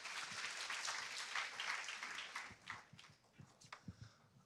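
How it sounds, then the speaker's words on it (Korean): Audience applause at a Korean AI technology conference session, steady clapping from a seated crowd that thins out into scattered individual claps near the end. "박수 부탁드립니다."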